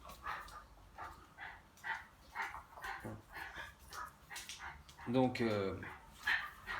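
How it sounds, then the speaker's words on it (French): Dogs bark and whimper in brief yips, with a louder burst of whining cries near the end, heard close by under someone speaking French throughout. "Calmez-vous les chiens."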